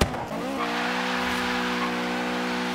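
A supercharged 2012 Cadillac Escalade ESV engine in Forza Horizon 3 howls at high rpm with a loud, steady tonal drone that rises sharply during the first half second and then holds, with no talk.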